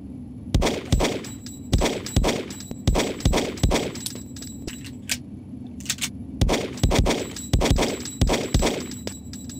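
Pistol gunshots at a training-facility shooting range in Hitman: Codename 47 ring out in spaced, sharp cracks with metallic clangs, coming in loose clusters with brief pauses between volleys.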